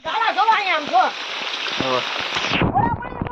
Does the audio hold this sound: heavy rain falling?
yes